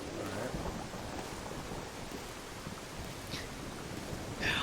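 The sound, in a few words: rain in the video game Final Fantasy VII Dirge of Cerberus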